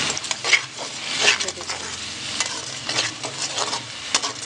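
Red chili frying in a pan, with a steady crackling sizzle and repeated scraping stirs of a spoon against the metal, close and fairly loud throughout.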